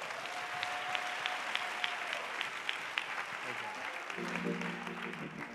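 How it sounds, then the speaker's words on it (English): Church congregation clapping together, a steady dense patter of many hands filling the space, with a few sharper individual claps and a voice rising near the end. "Clap your hands for PFI."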